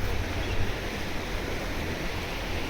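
Flowing water near the Vivekananda meditation centre in Uttarakhand, beside a rocky stretch along the Almora road: a steady, broadband rushing roar that stays constant and fairly loud, with no voices.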